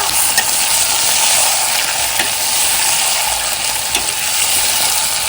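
Liver frying in a pan with fresh cashews, a loud, steady sizzle with occasional stirring clicks and scrapes throughout, close and continuous, no voices.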